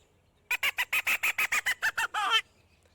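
A hand-blown squirrel call gives a fast series of about a dozen sharp, close chattering barks, ending in a short muffled burst where a cupped hand cuts over the call.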